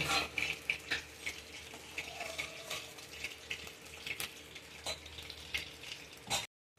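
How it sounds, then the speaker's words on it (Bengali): Tilapia fish pieces fry lightly in hot oil for a malaikari curry, giving a steady close sizzle with scattered crackles and pops, a few faint utensil clinks, then an abrupt cut to silence. "এবার মাছটা দিয়ে দিলাম। হালকা ভেজে নেব, বেশি কড়া করে ভাজবো না"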